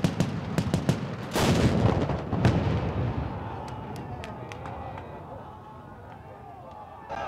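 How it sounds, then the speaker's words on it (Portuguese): Heavy anti-aircraft cannon and rapid machine-gun fire ring out in a loud opening volley at a drone during a military firing exercise, then fall away to scattered distant shots echoing across open ground. "Os militares fazem vários disparos."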